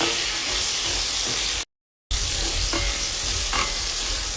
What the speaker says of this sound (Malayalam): ഈ എണ്ണയിൽ കിടന്ന് മാങ്ങ ഒന്ന് വഴന്നു വരണം.